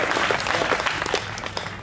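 A crowd at a Hindi comic poetry gathering breaks into applause, a thick wash of clapping with distinct sharp claps standing out, strongest at first and easing slightly as it continues.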